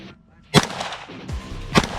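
Two loud rifle shots, one early and one near the end, fired at close targets placed low behind vegetation on a shooting competition stage outdoors, with a voice talking in between.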